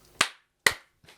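Two sharp, loud hand claps about half a second apart, then a softer third clap, close by with no talking.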